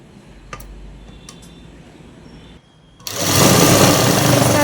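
A sewing machine runs a double line of stitching along a garment seam near the waistband, starting abruptly after a few quiet seconds of faint ticking and then whirring loudly and steadily to the end.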